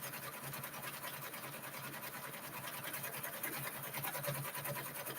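A sewing machine runs continuously, stitching a satin-stitch border on glow-in-the-dark satin applique, with a fast even needle rhythm that stays close and steady throughout.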